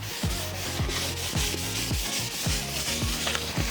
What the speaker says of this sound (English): Lots of buffing, and you'll see that the color on the board is definitely coming to life